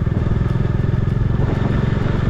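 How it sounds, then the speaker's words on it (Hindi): A motorcycle engine runs steadily at close range, a loud, low, pulsing throb with rattling mechanical clatter throughout, heard from on the bike while riding near the Myanmar border in India. "भाई बड़ी देर से ना बाइक को खींच खींच के लेके आ रहा हूँ"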